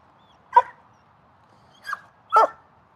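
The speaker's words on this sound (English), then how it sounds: "No barking." A dog gives three short barks or yips, one alone and then two close together, fairly clear against a quiet background.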